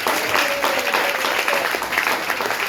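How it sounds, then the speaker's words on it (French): An audience at a live stand-up comedy and impressions show claps together, a loud, dense round of applause filling the room for a few seconds. "applaudissez-moi ça et on va terminer sur la..."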